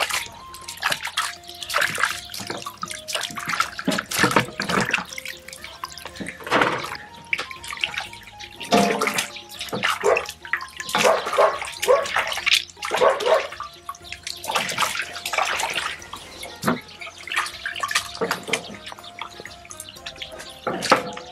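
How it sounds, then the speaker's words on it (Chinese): Blanched pork leg stick bones being rinsed in water, with running tap water, splashing and sloshing in bursts through the whole stretch, close and fairly loud, no talking. "焯完水再洗一下，把砧刀上面的浮沫洗干净。"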